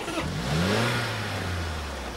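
A car engine catches after seizing and revs up, its rising then steadily held drone loud and close, with no talk over it.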